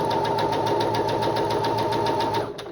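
A sewing machine stitches a test line on scrap fabric, a steady close mechanical whir with a fast even ticking rhythm that runs nearly three seconds before cutting off.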